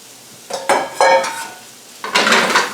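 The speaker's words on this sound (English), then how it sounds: "we'll get these peppers in there first" Sliced peppers tossed into a hot pan for a chicken stir-fry, loud close clatter and sizzling in a few separate bursts as they hit the pan and are stirred, with no talk.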